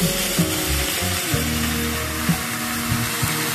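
Bottle gourd with tempering spices sizzling in hot oil in a pan, a steady close frying hiss with soft intermittent knocks of a utensil against the pan, quiet and without talk.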